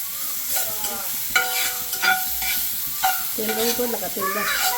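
Chopped onion frying in oil for egg bhurji, a steady sizzle with scraping spatula strokes and clinks of the pan, close and continuous, with no talk.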